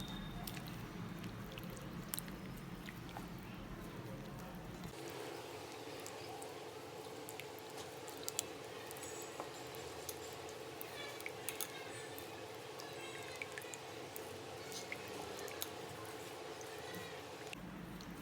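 Tofu and chaap being mixed with Kitchen King masala, a stock cube and water in a bowl, giving soft, wet squishing and stirring sounds that run steadily throughout at low level.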